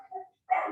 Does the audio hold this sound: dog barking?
yes